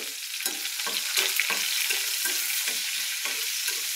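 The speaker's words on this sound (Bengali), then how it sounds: "দিয়ে দিব পেঁয়াজ কুচি, একটু রসুন কুচি দিয়ে দেবো, দিয়ে দেবো কাঁচামরিচ" Chopped onion, garlic and green chilies fry in a pan with a steady, bright sizzle, broken by a few quick stirring scrapes close up. No one speaks.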